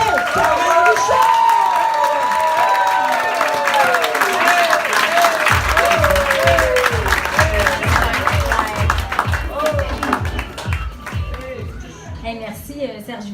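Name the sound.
audience applause for a stand-up comedian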